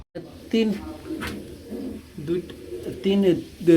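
Pigeons coo at a pigeon farm, soft throaty calls mixed in beneath someone talking close by through most of the stretch.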